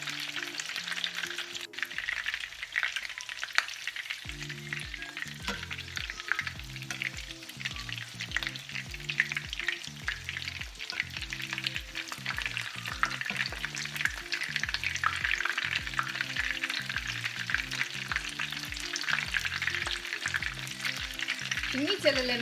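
Breaded oyster mushroom schnitzels fry in a pan with a dense, continuous sizzle and crackle, steady and close, while a pulsing musical backing runs underneath.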